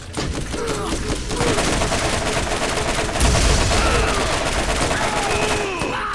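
Dense, continuous gunfire rattles through a shooting sequence in the video game Borderlands, with rapid bursts and a heavier blast near the middle, loud and sustained with faint talk underneath.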